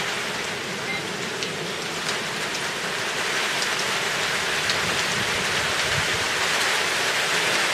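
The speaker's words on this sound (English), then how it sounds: "Alright, now the rain's starting." Rain falls steadily on a tile and corrugated iron roof, a dense, even hiss and patter that holds constant and slightly thickens over nearly eight seconds, with no voices.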